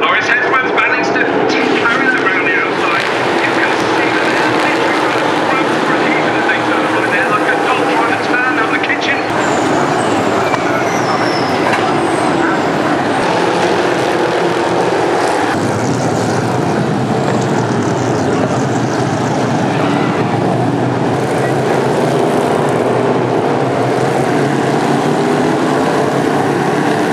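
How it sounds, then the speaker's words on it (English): NASCAR Elite Series race cars pass on the race track at Canadian Tire Motorsport Park, a continuous loud roar of engines swelling and fading, with a person talking over the noise. "I hope that the camera picked up just how loud those NASCARs were"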